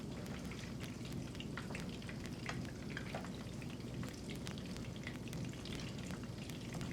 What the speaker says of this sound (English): Such a beautiful little boil on our nice little sizzle.